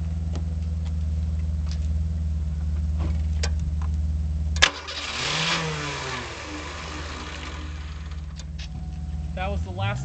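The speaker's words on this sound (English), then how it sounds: "trying to start the car with that out" A car's engine idles steadily, then stumbles and cuts off with a sharp knock near the middle of the clip, followed by starter cranking and a brief attempt to catch, with the fuel pump disabled; a voice talks over parts of it.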